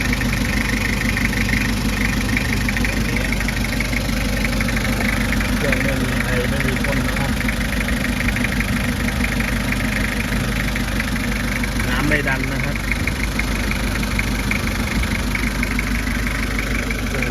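A 1995 Toyota Hiace high-roof van's 2L 2500cc diesel idles steadily up close, a constant low clattering hum throughout, while someone talks over it.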